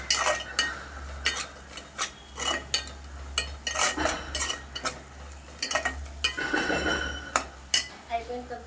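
A spoon stirs garam masala and chilli powder into aloo korma in a metal pot, giving a run of repeated scraping clinks against the sides, close and fairly loud, with a faint sizzle beneath and no talk.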